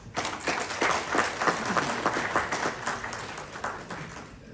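Audience at a Summit India event bursts into applause, a fairly soft room-filling clatter of many hands that swells quickly, holds steady, then begins tapering toward the end.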